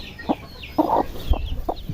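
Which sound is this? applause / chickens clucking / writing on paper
chickens clucking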